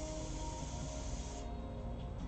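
An airbrush sprays a mixed paint color during a painting session, giving a steady close hiss that shifts tone partway through as the spray changes.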